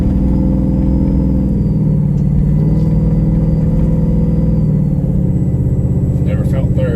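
A GMC Yukon with a 4L80 transmission cruising in second gear, a steady loud low engine rumble droning throughout from inside the cabin, with faint clicks near the end.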